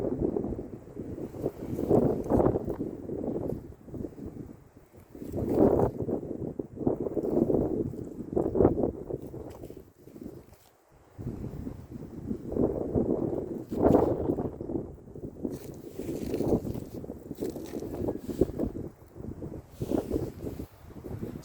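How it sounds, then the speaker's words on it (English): Outdoor wind at roughly 20 mph buffeting the microphone, rumbling gusts that rise and fall over about twenty seconds with a brief lull midway, loud and close with no voices. "You might hear the wind."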